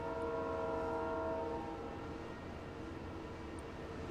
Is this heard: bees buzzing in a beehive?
no